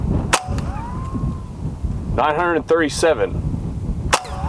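A Hatsan Barrage semi-automatic airgun fires pellets over a chronograph, giving sharp close cracks with a rapid burst of snaps in the middle, while someone speaks between shots.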